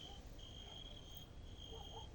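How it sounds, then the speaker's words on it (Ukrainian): Crickets chirp in a flower garden at sunset, a thin, steady high trill holding throughout with brief gaps, faint and distant over quiet evening background. "І вже цвіркуни цвіркочуть."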